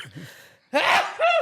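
A single sharp sneeze bursts out after a brief breathy intake, close and loud, followed by a short voiced tail.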